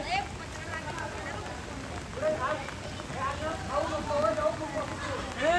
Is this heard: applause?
no